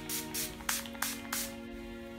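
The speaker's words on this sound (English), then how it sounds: "I'm going to set my whole face using my Urban Decay All Nighter Setting Spray" Urban Decay All Nighter setting spray mists onto a face in about five quick, soft hissing spritzes. The bursts are close and quiet, with no talking.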